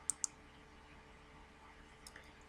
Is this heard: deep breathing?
no